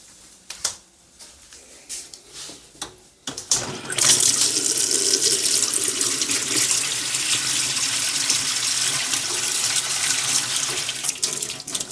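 Some clicks and knocks at first, then a loud, continuous hiss of very hot water in a tank, steaming and holding steady to the end.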